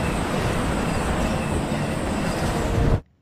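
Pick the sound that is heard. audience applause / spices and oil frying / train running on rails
train running on rails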